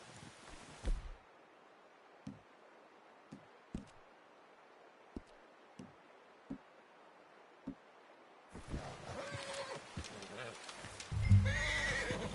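A horse in the video game Red Dead Redemption 2 walks with sparse, distinct clip-clop hoofbeats at a slow pace, then a louder stretch of rustling and snorting movement near the end, with voices talking over it.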